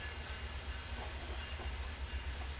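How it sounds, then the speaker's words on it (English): Low rumbling train pulling away from a station platform, with a steady rolling roar and faint hiss, continuous and fairly even, heard from nearby as it moves along the track. "Looks like they're moving the train out of the way."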